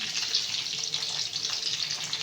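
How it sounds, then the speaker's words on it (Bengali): Fish frying in hot oil, giving a continuous hissing sizzle that stays steady and moderately loud, with no talking. "মাছ ভাজা চলছে"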